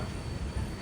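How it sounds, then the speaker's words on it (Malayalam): The Matsyagandha Express at Bhatkal station gives off a dense, steady rumble of rolling railcars with a faint high whine above it, loud and continuous, with no voices. "ട്രെയിൻ ഇപ്പോൾ ബത്കലിലെത്തി"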